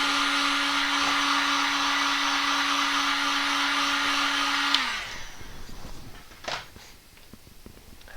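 A dryer blows steadily on a coloured wax piece, a loud constant whirring hiss for several seconds before it winds down and cuts off, followed by quiet handling noises and a brief bump.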